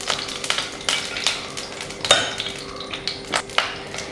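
Ghee and sunflower oil heat in a pan for a paneer peas pulao, with faint soft sizzling under intermittent clinks of a spoon or utensil against the metal pan, no voices.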